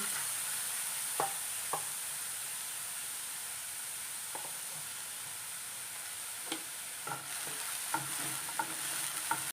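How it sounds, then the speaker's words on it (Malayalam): Steady sizzling of prawns frying in a pan, with occasional scraping clicks as they are stirred. "ചെമ്മീനൊന്ന് വറുത്തെടുക്കാം നമുക്ക്."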